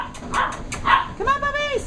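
Several puppies in a busy household bark and yip in short bursts, followed by a rising, wavering whine, with background movement and a voice nearby.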